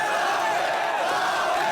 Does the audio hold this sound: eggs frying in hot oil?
no